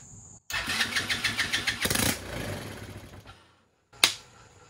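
A rebuilt TaoTao 110cc Chinese ATV engine starting with fuel dribbled in: a rapid series of close pops as it cranks and catches for about two seconds, then it dies out, followed by one sharp isolated bang.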